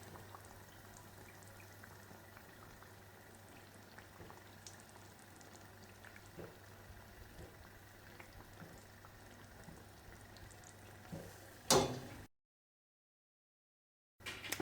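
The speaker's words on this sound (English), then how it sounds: "so I'm just going to let that fry a bit more" Teler pitha deep-frying in oil, a faint, steady bubbling and fizzing hiss throughout, with one brief louder clatter just before the sound cuts out.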